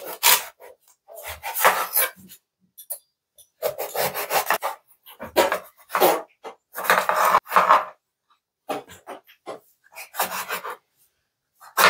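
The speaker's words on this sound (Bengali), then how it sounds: "চলো কাটা যাক বেগুনগুলো।" Dried eggplants being cut, with repeated rasping, scraping knife strokes on a board in short bursts separated by silences, close and clear with no talking.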